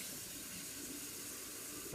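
Hot water running from a kitchen tap, a steady soft hiss and splash, faint and continuous, with a brief bump near the end.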